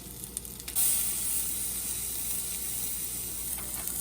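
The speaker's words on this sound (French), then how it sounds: "Pour saisir le thon, il faut vraiment que l'huile soit fumante, l'huile soit bien chaude" A piece of tuna hits smoking-hot olive oil in a pan with a sudden loud hiss that settles into a steady, close, bright sizzle, with a few faint clicks before and after.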